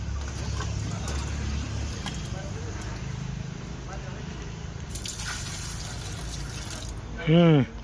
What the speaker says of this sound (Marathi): तू पाणी टाकतोय त्याला पिल्लू म्हणतात